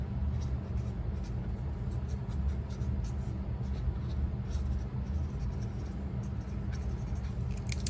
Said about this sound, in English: So let me write that down really quick.